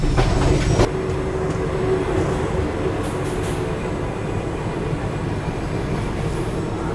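Malabar Express train running, a steady rumbling roar of carriage wheels on track with faint rhythmic clatter, heard close and continuous with no talk.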